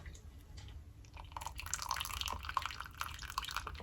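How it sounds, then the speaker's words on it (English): Whey drips faintly and steadily from stacked rounds of raw-milk Greek manouri cheese, soft irregular drops close by in a quiet room. "So the weight of one will push some of the whey out."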